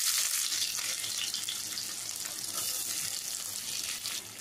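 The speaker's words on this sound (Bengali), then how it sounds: "পেঁয়াজটাকে এবারে আমি ফ্রাই করে নেব" Chopped onions fry in oil for a spicy Bengali fasha fish curry, a continuous bright hiss and crackle of sizzling, close and steady with faint stirring, no talk.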